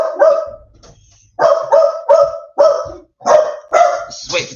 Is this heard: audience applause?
no